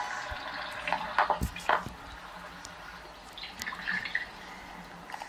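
Water trickling and dripping into a tank in the Roblox game Royale High, soft and steady with a few brighter splashy drips, no talking.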